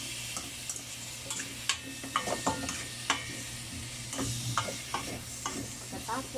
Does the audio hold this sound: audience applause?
no